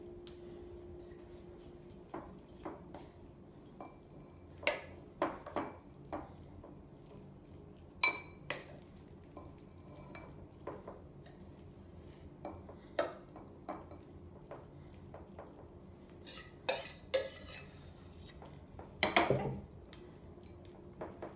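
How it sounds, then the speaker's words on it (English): Mac and cheese with bacon being mixed and spooned into a baking dish, heard as scattered clinks and scrapes of utensil on dish and pan, quiet and irregular, with no talk. "Just gonna mix that like that. And then I'm gonna put it in our baking dish."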